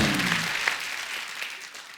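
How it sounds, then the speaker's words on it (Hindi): A studio audience at a comedy show applauds, with a broad wash of many hands clapping that holds steady and then eases off slightly toward the end. "उसके लिए जोरदार तालियां"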